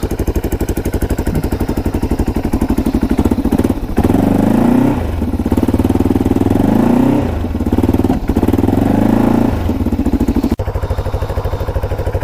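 A Can-Am DS 650 quad ATV engine with a small exhaust leak idles loudly and roughly nearby, then revs up and down in several surges before settling back to a steady rumble.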